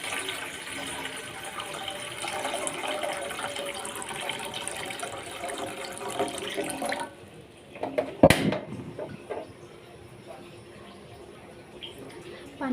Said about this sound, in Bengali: এখানে 3 কাপ পানি নিয়ে নিচ্ছি